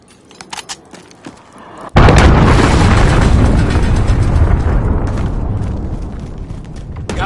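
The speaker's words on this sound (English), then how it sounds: "enemy cruise missile incoming!" A video-game enemy cruise missile strikes with a sudden loud blast after a quiet stretch of faint clicks, then a dense roaring rumble sustains and slowly fades for several seconds.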